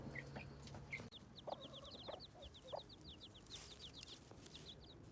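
Backyard chickens clucking softly nearby, a run of quick repeated chirpy clucks and a few lower calls over faint outdoor background noise.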